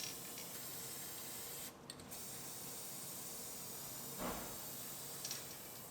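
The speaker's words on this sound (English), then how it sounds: "Put our cavity wax down in the seam." Cavity wax sprayed into a door seam on a GMC Yukon under repair, a steady broadband hiss lasting several seconds with a short break, heard close and alone.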